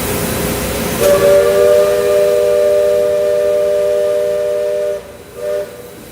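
The Liberty Belle steam riverboat at Magic Kingdom's Liberty Square gives one long, loud, chord-like steam whistle blast lasting about four seconds, followed by a short faint hiss.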